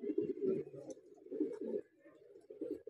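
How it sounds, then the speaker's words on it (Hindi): Several pigeons, Madrasi breed kept as fancy birds, coo in soft, low throaty bursts that pulse and pause, fairly close and steady in level, with no talk over them. "कितनी अच्छी क्वालिटी के कबूतर हैं"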